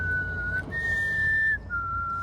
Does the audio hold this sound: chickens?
no